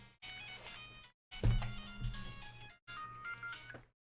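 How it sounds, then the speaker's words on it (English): A mobile phone ringtone plays as a repeating melodic tone in three bursts separated by short gaps, loud and close with no talk over it. "My phone going off?"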